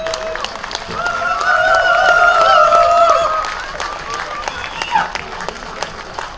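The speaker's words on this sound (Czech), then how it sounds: "potlesk!" Audience applause at an anniversary celebration of a Czech folk dance ensemble: dense clapping rises and swells through the middle, then thins out, with voices and a sustained tonal sound over it.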